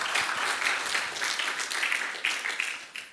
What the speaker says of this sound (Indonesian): Ya, kasih tepuk tangan buat mereka.